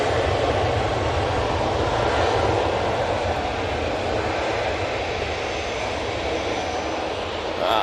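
A Ryanair Boeing 737 Max jet rolls for takeoff at Manchester Airport, a loud, steady broadband engine roar holding near and constant throughout.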